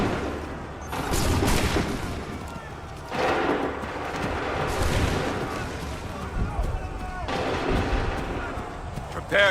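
Gunfire and artillery from Assassin's Creed 3 Remastered on PC: loud, sustained volleys of booming cannon and rifle fire roll in overlapping waves, with a voice shouting over the battle.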